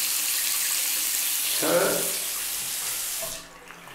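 Bathroom faucet running at strong pressure in a one-bedroom apartment's bathroom with a pedestal sink, a steady close hiss of water that shuts off near the end, with a brief spoken word partway through.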